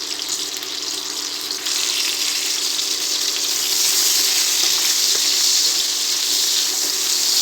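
Brinjal frying in hot oil with salt and turmeric gives a steady, loud hiss that holds without a break, swelling slightly partway through and staying even to the end with no voices.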